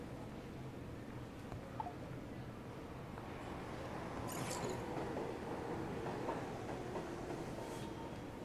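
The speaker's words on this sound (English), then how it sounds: "The train will be arriving shortly." Train arriving at a station in the video game Persona 5: The Phantom X, a faint continuous rumble and rattling of railcars with scattered clicks and a soft swell partway through.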